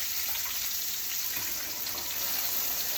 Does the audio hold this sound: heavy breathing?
no